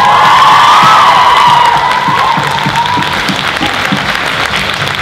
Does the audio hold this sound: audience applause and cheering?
yes